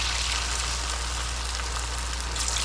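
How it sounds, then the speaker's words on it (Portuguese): A pastel frying in very hot fat gives off a dense, steady, loud sizzle with no pauses, heard up close alongside a low constant hum. "Na hora de fritar, a gordura tem que estar bem quente para não ficar encharcado."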